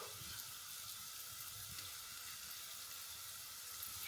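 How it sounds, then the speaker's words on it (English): A soft, steady sizzle of chicken frying in a pan, continuous and fairly quiet with a faint low rumble underneath. "So you've got a little bit of a sizzle."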